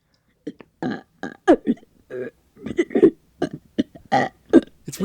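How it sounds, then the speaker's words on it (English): A string of loud, wet burps, one after another in uneven bursts with short gaps, close and unaccompanied by other sound. "burps."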